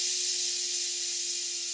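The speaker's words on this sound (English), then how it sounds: "The 504 boiler is blowing off now" A model steam engine's 504 boiler safety valve blowing off: a steady, loud hiss of escaping steam with a faint constant tone underneath, continuous and unchanging throughout.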